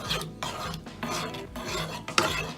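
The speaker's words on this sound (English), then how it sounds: "Stirring, stirring, stirring, stirring, stirring, stirring." A spoon scraping and stirring tomato pasta sauce with oil in a pan, as bursts of rasping, rubbing strokes in a steady back-and-forth rhythm, close and fairly clear with no talking.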